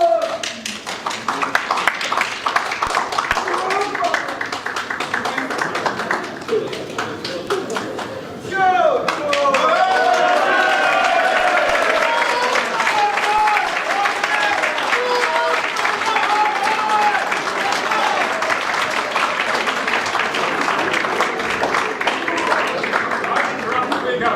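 Rally crowd applauding and clapping for George Galloway at a Workers Party election event, sustained and loud with cheering and chatter mixed in, a brief dip partway through before the applause swells again and holds.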